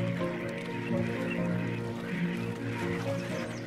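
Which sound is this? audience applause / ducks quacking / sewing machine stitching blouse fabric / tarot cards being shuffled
ducks quacking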